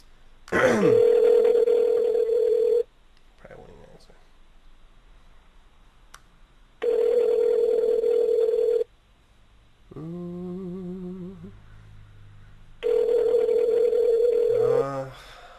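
A telephone call going unanswered: three long, loud electronic ring tones separated by gaps of near silence, with a brief burst of other electronic tones between two of the rings.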